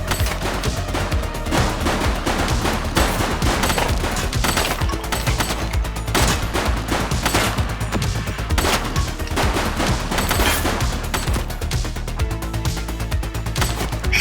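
Sustained gunfire from a police shootout in The Precinct, with dense bursts of shots running continuously at steady loudness, likely over a game score or background music.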